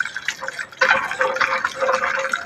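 Water splashes and trickles as someone washes their face outdoors in a garden, with uneven close splashing bursts and running water and no talk.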